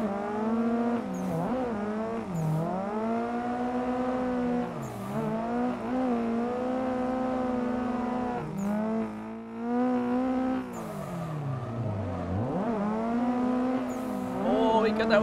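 Race cars drifting in a racing video game, with engines revving up and down in repeated sweeps and brief tire squeals between them, loud and continuous across the whole stretch.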